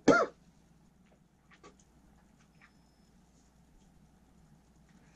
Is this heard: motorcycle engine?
no